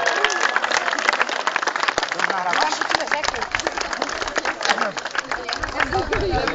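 A group of people at a summer camp clap together in a continuous, dense round of applause, with lively voices and crowd chatter mixed in throughout.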